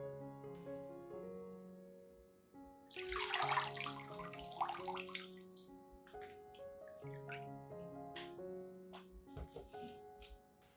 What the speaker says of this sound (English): After watering the base of the orchids